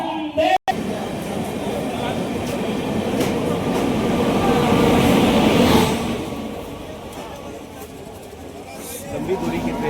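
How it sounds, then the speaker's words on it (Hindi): The Amrit Bharat Express, a long-distance train, moving slowly, a continuous loud rumble of wheels and carriages that swells in the middle and then eases, with voices talking in the background. "गाड़ी धीरे धीरे अपने गंतव्य की ओर बढ़ती हुई"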